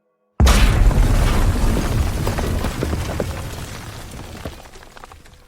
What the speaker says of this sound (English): The resulting explosion created a gaping opening